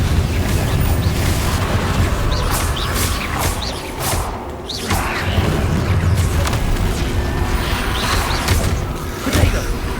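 Continuous loud fire spell blasts and booming magical explosions in Hogwarts Legacy combat, dense crackling bursts with whooshes layered over a rumbling game soundtrack, no pause throughout.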